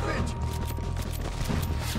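Rapid gunfire in Red Dead Redemption 2 during a shootout against army troops forms a dense, continuous volley of loud shots, with voices talking over the battle.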